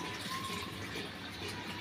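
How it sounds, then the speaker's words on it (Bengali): Cow's milk pours into a cooking pot of spiced rooster curry as a soft, steady liquid gush, faint and close, lasting under two seconds. "পানির বদলে একটু গরুর দুধ দিয়ে দিলাম"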